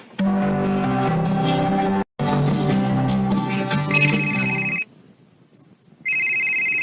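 A phone rings with an incoming call, a loud melodic ringtone playing in repeating bursts with a brief gap, then a high steady beeping tone that pauses and resumes.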